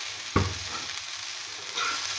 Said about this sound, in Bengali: দেখুন খুব সুন্দরভাবে ভাজা হয়ে গেছে।